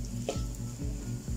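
Dried anchovies and dried shrimp stir-fried in oil, a soft sizzle under a low steady hum, with a few quick stirring scrapes at regular intervals.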